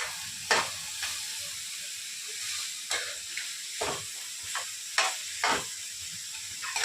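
Cooked rice being stirred with ghee in a hot pan for mint rice: a steady low sizzle broken by repeated scraping strokes of the spoon against the pan, near and clear.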